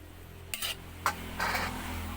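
Pancit bihon rice noodles with vegetables tossed in a pan, giving a few short scraping swishes of the utensil over a low background sizzle.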